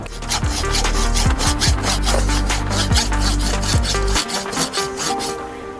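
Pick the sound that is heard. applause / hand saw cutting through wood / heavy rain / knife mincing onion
hand saw cutting through wood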